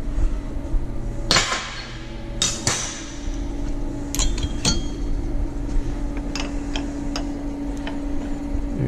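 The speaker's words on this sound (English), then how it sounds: "We're gonna put the drill drift in here, hold on to your bit here so it doesn't fall out." A drill drift is tapped with a few sharp metallic knocks to free the bit from a radial arm drill, with clinks and ticks over a steady machine hum.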